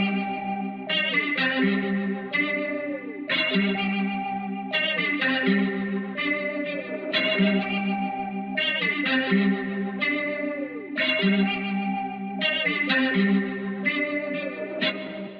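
A looping FL Studio trap beat in a Jackboys style, with a light delay effect adding trailing echoes behind repeating melodic synth phrases and steady low hits, loud and continuous throughout with no talking.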